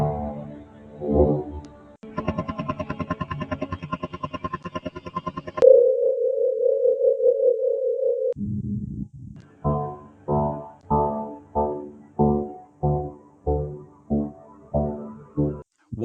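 Real data from a pulsating star, sped up about a million times and turned into sound, plays as a series of tonal drones: a buzzy held tone, a steady hum, then a rhythmic string of pulsing throbs.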